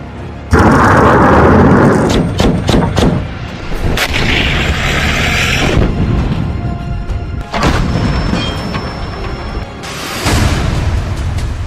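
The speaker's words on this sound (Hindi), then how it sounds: "एक साथ ड्रोन, रॉकेट और मिसाइलों के ट्रिपल अटैक को कीव का एयर डिफेंस सिस्टम रोक नहीं पा रहा है" Explosions from a combined drone, rocket and missile attack on Kyiv, heard as a run of loud, close booms and sharp blasts over about twelve seconds, with rumbling between the impacts.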